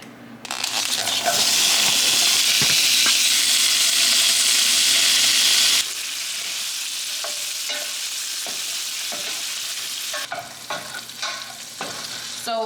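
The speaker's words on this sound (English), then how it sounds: "And then we're gonna put the sausage and all of the other veggies in this pan." Sausage and mixed vegetables hit a hot pan with a loud, close, roaring sizzle that eases after several seconds into a steadier crackle broken by stirring scrapes and clatter.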